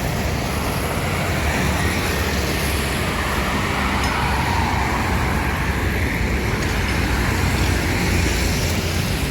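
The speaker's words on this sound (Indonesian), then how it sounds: "Untuk lalu lintas di pagi hari ini di hari Kamis jam 8." Steady, continuous roar of morning road traffic in Palembang at about eight on a Thursday, a dense wash of engine and tyre noise at a constant loud level with no talk.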